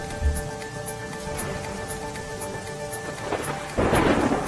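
Heavy monsoon rain pours steadily in Kutch, Gujarat, with thunder rumbling low throughout and a louder roll near the end; the downpour is dense and close.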